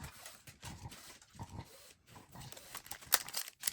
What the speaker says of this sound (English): Doggy has found a ball.